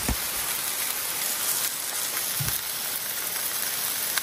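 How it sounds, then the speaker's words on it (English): Pork chop frying on an alcohol stove outdoors during a heavy rainstorm, a steady dense crackle and hiss of spitting fat blended with the constant patter of rain, with a couple of brief low thumps. "I tried doing the alcohol stove to finish that pork chop off back here, but it was splattering everywhere"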